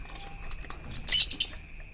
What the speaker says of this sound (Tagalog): Ayan, yellow colored lovebird.